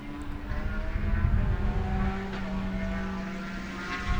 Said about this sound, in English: here comes the little Z car.